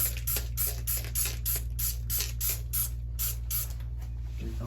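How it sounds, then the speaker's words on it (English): Mold and mildew remover bleach is sprayed around a shower from a trigger bottle, about a dozen quick hissing bursts in steady rhythm, close and loud over a low background hum. "I'm just going to spray it all"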